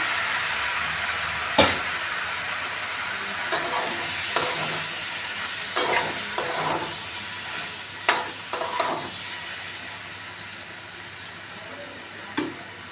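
Boiled pasta stir-fries with capsicum, onion and carrot in a pan, a steady sizzle broken by several sharp clanks and scrapes of stirring, close and clear.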